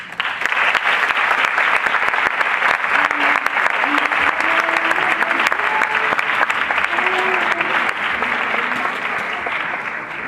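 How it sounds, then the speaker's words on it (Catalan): Loud, sustained applause from a large crowd welcoming a festival commission, continuous dense clapping throughout with faint voices and a murmur mixed in. "per favor, un fort aplaudiment per a rebre a la nostra comissió"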